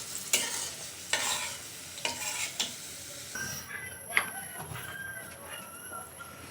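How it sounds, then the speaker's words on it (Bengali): Raisins fry in a pan while pulao is being made, with a faint sizzle under several sharp metallic scrapes and taps from a spatula, plus light clinks of utensils. "একটু কিসমিস কয়টা ভেজে নিলাম।"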